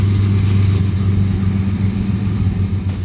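Car engine revving loudly with an incomplete exhaust, a deep steady rumble with strong low harmonics holding throughout, close and continuous with no talking.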